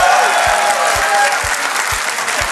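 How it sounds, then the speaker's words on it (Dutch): Audience in a hall clapping for a student, loud dense applause throughout with regular low thumps pulsing underneath about twice a second. "Geef hem dan maar een applaus, dames en heren."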